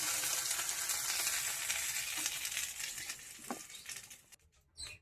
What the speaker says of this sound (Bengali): পটলগুলো লাল লাল করে ভাজা হয়ে গেছে